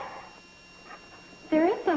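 A dog whimpers in a few short, high, whining cries near the end, following a quiet stretch with faint voices in the background.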